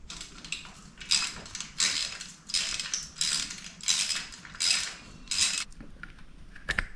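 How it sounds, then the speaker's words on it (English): A ratchet wrench undoing a bolt on a Honda CRF300L motorcycle: repeated bursts of rapid metallic clicking, close up, with short pauses between strokes. "So undo this bolt."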